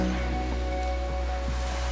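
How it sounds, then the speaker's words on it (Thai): Sea waves wash steadily at a beach in Rayong, forming a loud, continuous surf roar with a low rumble beneath it and no speech. "เรามาถึงทะเล"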